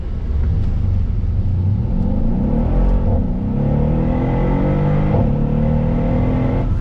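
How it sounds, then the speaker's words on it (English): A 2019 Mercedes-Benz AMG SL63 Roadster pulls away from a standstill, its engine rumbling loud and steady as rising harmonics climb through the gears, heard from inside the car with no talk. "another acceleration from a stop"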